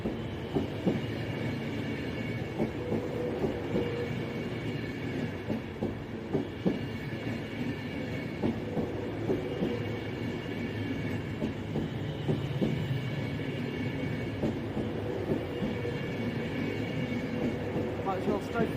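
Passenger train passing close by at Aston, a steady loud roar of rolling stock with rhythmic clickety-clack over rail joints sustained throughout, with a voice speaking briefly.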